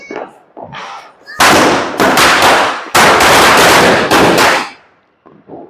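A rapid string of loud Diwali firecracker bangs and crackles bursts out nearby, with short pauses between volleys before tapering off.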